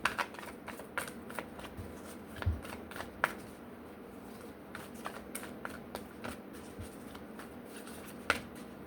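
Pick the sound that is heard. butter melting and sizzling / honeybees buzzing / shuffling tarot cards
shuffling tarot cards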